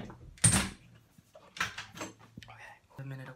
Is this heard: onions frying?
no